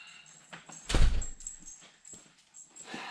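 A dog comes in through a door with a soft thump and brief scuffling, followed by faint, thin whimpers and light movement in a quiet room.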